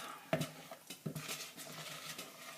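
A spoon scrapes and stirs a stiff butter sugar scrub mixture in a bowl, a few quiet scuffing strokes and soft clicks close by, with no talking.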